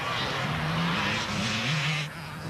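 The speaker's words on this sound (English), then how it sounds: "Alfie Cox winds it up on that 300 KTM" A KTM 300 two-stroke enduro motorcycle ridden by Alfie Cox near the finish area of a 2001 enduro race, engine whining and revving up and down loudly and close, with faint voices behind.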